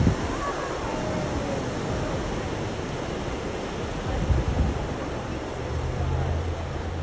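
Big waves crash and roar along the Oahu coast during flash flooding, a dense continuous wash of surf with heavy wind buffeting the microphone and surges of low rumble.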